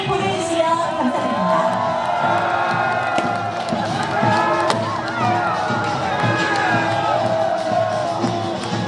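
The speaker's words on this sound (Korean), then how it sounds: "여러분 힘찬 경기의 박수를" A crowd at the opening ceremony of a county residents' sports festival applauds and cheers steadily throughout, loud and sustained, while an announcer speaks over a PA system.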